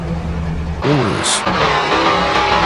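A Lamborghini Urus engine in the BeamNG driving game revs up with rising and falling tones after a low steady drone, holding at a loud, close roar.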